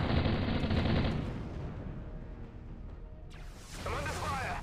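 Gunfire and blasts in the space combat game Space Commander: War and Trade, with a loud burst of noisy fire at the start that fades out, then another rough burst near the end.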